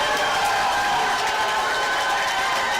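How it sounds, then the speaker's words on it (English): Crowd at a women's 10m air rifle gold medal final erupts as Turkey wins gold, a dense, steady roar of cheering and applause that fills the hall. "This crowd erupts and Turkey take the gold"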